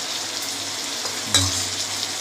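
Ginger and Kashmiri chili hit a hot pan for chicken chilli, giving a steady close sizzle with a brief louder scrape or stir partway through.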